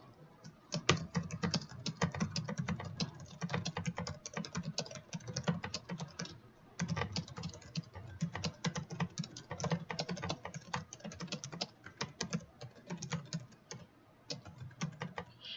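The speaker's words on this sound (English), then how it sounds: "we're just going to type a few words." Steady typing on a computer keyboard, continuous clicky keystrokes at a brisk, even pace with one brief pause, close and clear with no voices.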